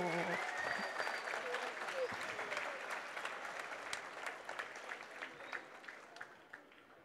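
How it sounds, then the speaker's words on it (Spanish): A crowd at a collective wedding ceremony in Boca del Río applauds steadily, a broad wash of clapping that gradually fades toward the end while a voice speaks over it. "para motivarlos se puede escuchar el aplauso más fuerte"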